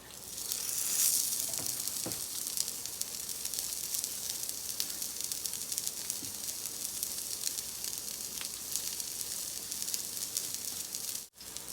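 Salmon patties fry in a hot skillet with a steady, close sizzle and a few brief crackling pops. No one speaks.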